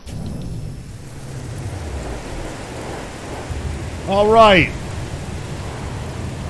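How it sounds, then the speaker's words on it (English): In No Man's Sky, a steady wash of rain and low storm rumble fill the scene, with a short spoken word over it partway through. "Good, the storm's clearing too"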